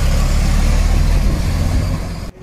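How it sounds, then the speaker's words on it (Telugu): An APSRTC bus engine at the Tenali market point pulling away, a loud close low rumble that holds steady and then thins and fades near the end. "59:21 చెరువుపల్లి బస్సు బయలుదేరింది"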